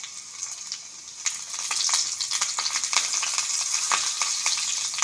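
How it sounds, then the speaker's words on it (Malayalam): Mustard seeds, chopped shallots and curry leaves frying in hot oil, a steady bright sizzle with sharp popping crackles that grows louder partway through, with no talking. "എണ്ണ ചൂടായി. അതിലേക്ക് നമ്മൾ കടുക് ഇട്ടു. ചുവന്നുള്ളി അരിഞ്ഞതിട്ടു."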